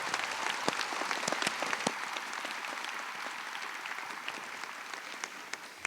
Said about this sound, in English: How about a round of applause for Mrs.